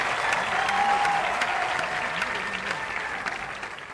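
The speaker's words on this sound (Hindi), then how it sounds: "अरे भाई, जोरदार तालियां योगी जी के लिए और उत्तर प्रदेश के लिए हो जाए" Loud, sustained applause from a large audience at a sports games launch event in Uttar Pradesh, a steady wash of clapping for the chief minister and the state, with no talk over it.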